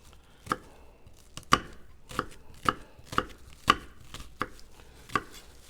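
Onion chopped with a knife on a board, about nine crisp, close knocks at an uneven, unhurried pace, with no voices.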